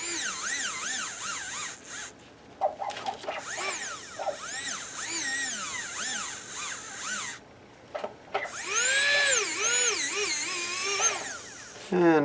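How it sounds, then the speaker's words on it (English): A dental burr in a handpiece enlarging and rounding a hole in an in-house surgical guide, a close high whine that rises and falls continuously as it grinds, sometimes stalling briefly. "what I like to do is take a slightly larger burr"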